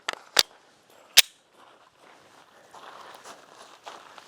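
Two sharp Glock 19 pistol shots fired one-handed at a range, loud and close, spaced under a second apart, followed by faint rustling and background noise.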